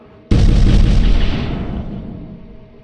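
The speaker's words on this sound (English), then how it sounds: "could one of you press the pedal down to fire a shot at that glowing object?" Anti-aircraft gun on a platform in the video game Coscoroba fires a single shot, a sudden loud deep boom that rings on and slowly decays over about two seconds.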